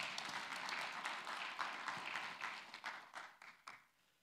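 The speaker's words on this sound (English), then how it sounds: "give a round of applause for that" Church congregation applauding during a Sunday sermon, a moderately faint burst of many hands clapping that thins into a few scattered claps before fading out.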